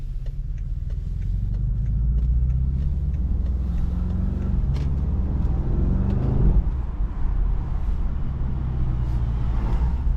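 A BMW car drives through a downtown city street, with a steady low engine and road rumble heard from inside the cabin that swells briefly mid-drive, with no talking.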